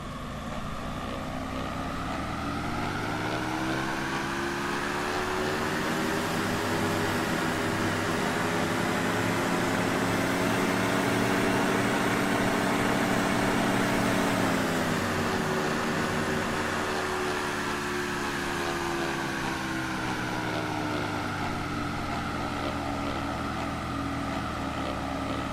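A Diamond DA-50RG aircraft engine drones steadily in a flight simulator, a continuous layered hum with a tone that swells and dips slightly as power changes, with no talking.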